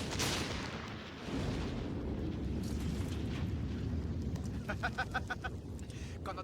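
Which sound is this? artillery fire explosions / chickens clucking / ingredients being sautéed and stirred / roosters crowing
artillery fire explosions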